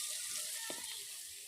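Garlic paste hits hot oil with onion and cumin in a pan, giving a steady close-up sizzle throughout, with a brief burst of spattering midway.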